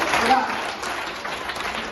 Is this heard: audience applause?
yes